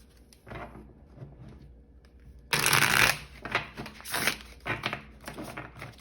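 A Light Seers Tarot deck being shuffled, with quiet handling rustles, then a loud, close riffle burst followed by several shorter flicking shuffles and card slaps.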